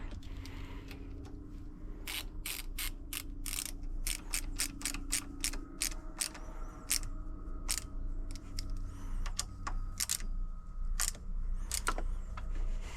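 Ratchet wrench clicking in repeated short bursts while tightening the stem clamp bolts on a Sur-Ron Light Bee electric dirt bike during a fork swap, close and clear over a low steady background hum, with no talking.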